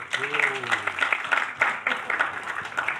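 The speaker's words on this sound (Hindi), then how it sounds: "एक बार फिर से दोस्तों जोरदार तालियां" Clapping from an audience at a Bollywood film promotion event, a sparse patter of hands heard over a voice talking briefly at the start.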